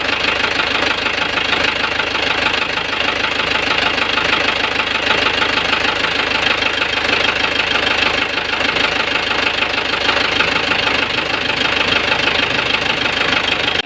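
A car engine running with a knock: a loud, steady, close mechanical drone with rapid rough ticking throughout and no voices.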